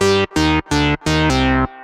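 A classic analog-style synth patch from an Arturia Prophet 5 or Mini Moog emulation plays five loud, sustained brassy notes in a short phrase, rich and buzzy, with no voices.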